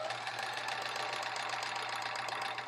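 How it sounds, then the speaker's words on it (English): A 1970s Sears Kenmore sewing machine stitching through layers of fabric, giving a continuous fast mechanical whir with a steady low motor hum, even and moderately close. "I'm on a Sears Kenmore machine from the 70s"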